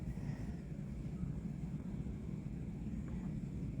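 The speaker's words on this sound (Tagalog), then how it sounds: "Kaya medyo mababa na yung lipad ng drone natin kasi masyadong malakas yung hangin sa taas" A camera drone flies low over a beach resort at Calatagan, Batangas in strong wind, giving a steady, dense rushing hum with wind buffeting the microphone throughout, constant and unbroken with no talk.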